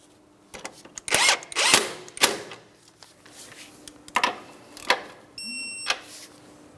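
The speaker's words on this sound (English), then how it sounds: "I'm going to continue on with my mounting nut. Go ahead and tighten that." A power tool tightens the tie rod mounting nut on a Mitsubishi Outlander's front suspension in short, sharp whirring bursts, about eight separate pulses spaced irregularly, close and fairly loud.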